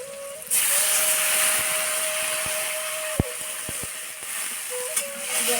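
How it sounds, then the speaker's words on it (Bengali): Water goes into a pan of frying bamboo shoot vegetable curry and sets off a sudden loud hiss that settles into a steady close sizzle, with a faint tonal hum and a few soft knocks underneath. "এখন আমি জল দিয়ে দেবো।"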